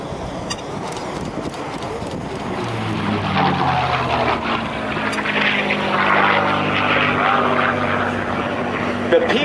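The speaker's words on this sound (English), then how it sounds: "the P-51 Mustang, as you see it diving in from the right now, let's just listen to this. Listen to this engine." A P-51 Mustang propeller fighter dives past at an air show, its piston engine building into a loud, sustained drone with a falling pitch sweep as it passes close, while a crowd murmurs underneath.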